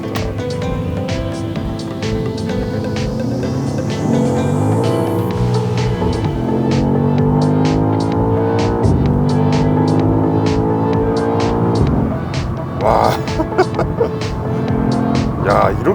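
A 653-horsepower BMW XM SUV engine revving hard and accelerating through several rising gear pulls, loud and close, with brief pauses between shifts and a voice speaking over it near the end.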